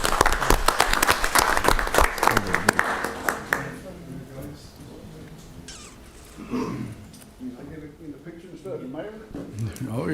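A round of applause at a town council meeting, a short burst of clapping at the start that quickly fades, after which people talk close by.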